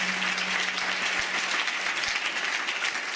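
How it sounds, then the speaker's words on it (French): A church congregation applauding, a dense, steady burst of many hands clapping together at close range. "Acclamons encore pour le Seigneur Jésus-Christ."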